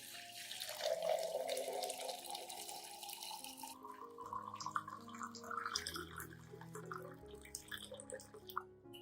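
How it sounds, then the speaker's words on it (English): About 500 milliliters of hot water pours steadily into a glass, the pitch rising as it fills, a continuous gurgling trickle close by with no voices. "Pour about 500 milliliters of hot water into the glass."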